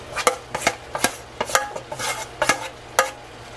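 A spoon stirring potatoes into browning picadillo in a pan, sharp scraping clacks against the pan at an uneven rhythm over a low steady background hum, close and clear with no talking.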